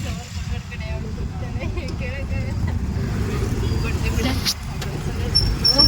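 Interior of a moving auto rickshaw on an Indian road, a rumbling engine and road noise droning steadily underneath, with people talking over it and a brief horn or squeal near the end.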